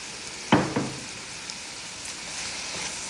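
Onions frying in olive oil and being stirred, a steady sizzle with two sharp clattering stirs early on, then continuous frying hiss.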